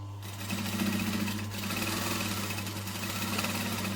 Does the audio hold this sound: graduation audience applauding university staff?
no